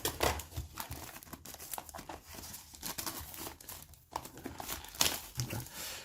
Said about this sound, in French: Donc je prends les ciseaux, on va couper ça ici.